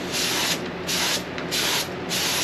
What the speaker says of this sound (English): And we'll do some test sprays on that.